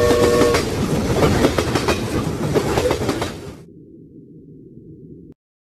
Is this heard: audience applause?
no